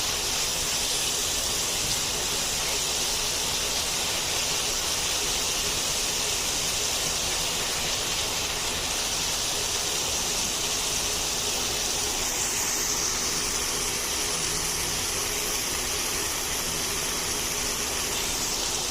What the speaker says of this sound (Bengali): এখন আমি দিয়ে দিচ্ছি চিংড়ি মাছগুলা চিংড়ি মাছগুলো আমি এক থেকে দুই মিনিট নেড়ে চেড়ে একটু মশলাটা মিক্স করে নেব